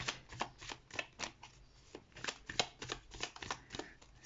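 Playing cards are shuffled and handled up close, giving quiet, quick riffling flicks and soft slaps in an uneven run, with no voices over them.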